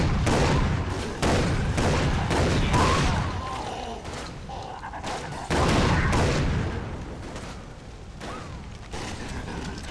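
Repeated gunfire in the shooter Far Cry 3 Blood Dragon, loud bursts of shots and booms cracking out in irregular clusters over a droning backdrop.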